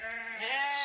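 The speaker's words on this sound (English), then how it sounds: "she is quite an entertaining sheep in her own" A ewe, a milking sheep on a farm, gives one loud close bleat that rises and wavers for under a second, alone without talk.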